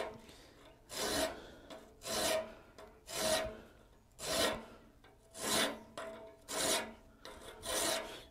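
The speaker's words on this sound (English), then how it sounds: "now I have to remove a lot more material with a file" A hand file rasps across a forged metal Gothic door knocker held in a vise, giving about seven slow, even strokes of scraping close up, each separated by a short pause.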